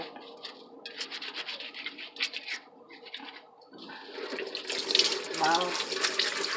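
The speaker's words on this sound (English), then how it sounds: "And rinse it by running water over it." Running tap water pours over a cucumber as it is rinsed, a steady splashing stream with rubbing sounds that swells louder toward the end, with no talking over it.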